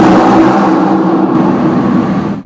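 A Honda VFR750 motorcycle engine revs close and loud, holding a steady, buzzy drone before cutting off abruptly at the end.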